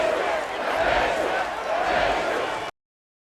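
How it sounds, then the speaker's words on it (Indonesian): A large crowd in the Colosseum shouts and chants a general's name, a dense swelling roar of many voices that holds steady for a few seconds and then cuts off abruptly. "selagi kerumunan meneriaki nama sang jenderal"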